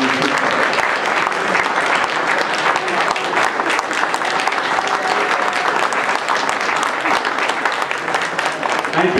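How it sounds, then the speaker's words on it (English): A dinner-event audience gives a sustained round of applause, with dense, steady clapping from many hands, close and loud for the full duration and no voices standing out. "Let's have a final great round of applause for Christina."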